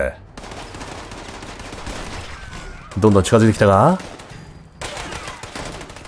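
Gauss shotgun fire from Fallout 76 rattles out in repeated bursts of shots at close range, mixed with game sounds, while someone talks over the action and briefly exclaims in the middle.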